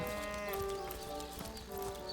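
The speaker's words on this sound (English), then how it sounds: "Hello, sheep." In Divinity: Original Sin Enhanced Edition, a sheep bleats softly at close range over a steady, quiet game ambience with light tonal music.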